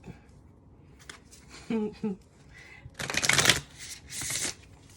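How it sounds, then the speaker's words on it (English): Playing cards being shuffled in several quick riffling bursts, the longest one crisp and close, while people talk over and between them. "Damn, shuffling, shuffling."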